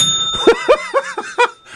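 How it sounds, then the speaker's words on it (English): A bell dinged repeatedly on a radio talk show, several quick bright rings in an irregular rhythm, close and clear with little else around them. "whenever you hear that bell, that means that they're making fun of me"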